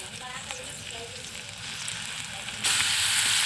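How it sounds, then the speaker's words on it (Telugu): Dried fish sizzles and fries in hot oil in a wok, a steady crackling hiss that grows louder and brighter near the end, with no talking. "కళాయి పెట్టుకొని నూనె వేసుకొని ఎండి చేపలు వేసుకున్నాం."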